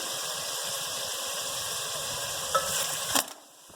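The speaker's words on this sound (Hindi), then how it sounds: "अब मैं इसके अंदर साबुत गरम मसाले ऐड कर रही हूँ, ये देखें, और इसे मिक्स करते हैं।" Whole garam masala stirred into mutton frying in a pan, with a steady broad sizzle throughout and a couple of brief louder scrapes near the end before the sizzle quickly fades.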